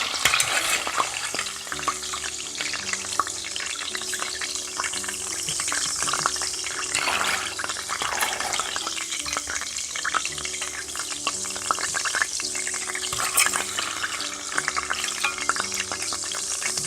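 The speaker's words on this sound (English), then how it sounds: "the beef has cooked very beautifully, so I'm just going to scoop it out of the oil." Beef pieces frying in hot oil for a Ghanaian corned beef stew, a steady loud sizzle and crackle with scraping and stirring as the meat is scooped out, continuous throughout with no talking.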